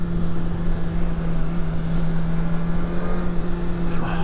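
Steady engine drone of a BMW S1000R Sport motorcycle idling or cruising while cars pass by on the road, a continuous loud hum with no distinct passes standing out.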